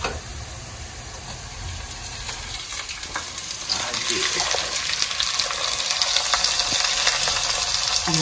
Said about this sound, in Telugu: ఇదిగోండి మనం మ్యారినేట్ చేసుకున్న చికెన్ కూడా అందులో వేసేద్దాం.